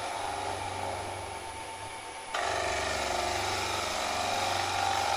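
A woodturning gouge cuts an ogee bowl on a lathe, a steady broadband hiss over the low motor hum, stepping up louder partway through as the cut deepens, with no talk.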